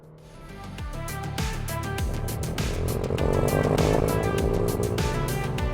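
A Kia Stinger pulls away under launch control, its engine note climbing hard in rising sweeps that suggest quick gear changes, building steadily louder and close by over several seconds.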